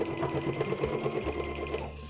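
Sewing machine stitching an appliqué pillow seam, a quiet, fast rhythmic clatter of the needle running steadily for about two seconds with no talk.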